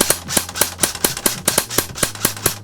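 S&T Nambu Type 100/40 airsoft gun firing full auto, a close string of about a dozen sharp, evenly spaced pops at a moderate cyclic rate, with no talking.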